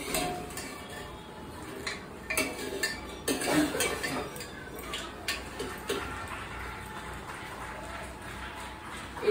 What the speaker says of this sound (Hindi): ये हमारी बढ़िया फ्राई हो रही है।